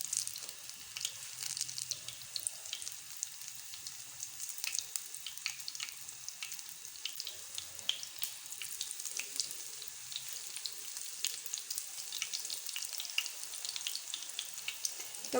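Potato balls sizzle steadily in hot oil on an open tawa griddle, a soft continuous crackle with scattered pops, fairly quiet and with no voices.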